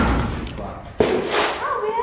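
A barn door closes in a horse barn with a single sharp, close slam partway through, set against a steady background hum and a voice nearby.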